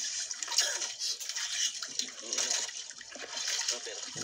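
Strong river current rushes and splashes in a steady broadband wash, with murmured talk faintly underneath.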